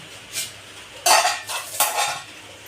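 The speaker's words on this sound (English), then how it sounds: "ఇది మొత్తం మిక్స్ చేసుకుందాం బాగా అండ్ స్లోగా" Chicken curry with Andhra chili powder is stirred in a pan, a few scraping, clattering strokes of a utensil against metal, close and fairly loud.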